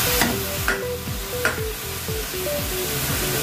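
Beef for afritada sizzles in a hot pan as a spoon stirs it, producing a steady frying hiss and repeated scraping and clinking strokes at close range.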